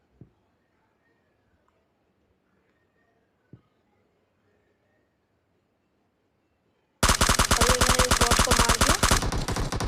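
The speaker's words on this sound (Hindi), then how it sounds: "किसी और ने भी फायर करा था इस बॉट पे" Battle royale video game gunfire: after a long near-silent stretch with a couple of faint thuds, a loud, rapid automatic burst of shots erupts and keeps firing to the end.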